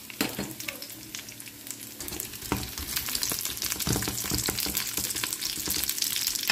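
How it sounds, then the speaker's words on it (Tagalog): Garlic and rock sugar sautéing for Taiwanese-style adobo make a loud, constant sizzle in a hot pan, with repeated stirring scrapes that get busier partway through, up close and without voices. "Ayan, gigisa ko siya."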